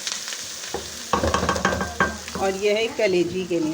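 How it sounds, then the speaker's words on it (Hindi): Onions browning in hot oil in a pan for keema, a loud continuous sizzle and crackle with stirring scrapes, while someone talks over it. "हम दोनों प्याज ब्राउन कर रहे हैं, कलेजी के लिए भी और कीमे के लिए भी"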